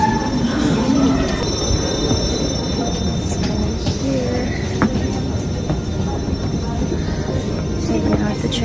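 A South Korean train runs along the rails with a steady loud rumble and high metallic wheel squeal, heard from on board in a continuous stretch.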